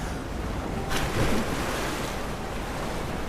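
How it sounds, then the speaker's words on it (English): A turning water wheel and rushing water fill a scene in the Rise of the Tomb Raider video game, a steady loud broadband wash with a brief swell partway through and no speech. "I think that water wheel is working"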